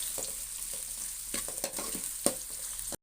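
Small onions frying in oil for fish curry, a soft continuous sizzle broken by spoon scrapes and stirring clatters, heard close and alone before an abrupt stop.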